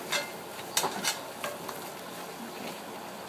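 Fresh bay leaves and thyme are stirred into a rabbit stew in a pot, with a few short, irregular scraping and stirring strokes over a soft sizzle.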